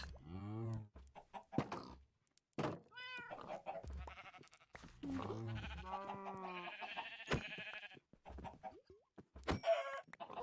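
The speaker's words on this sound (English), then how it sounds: "Oh, we definitely have enough chickens." Minecraft chickens cluck in a busy farm pen, their repeated short clucks mixing with bleating sheep and goats, moderately loud and continuous throughout, with no talk over them.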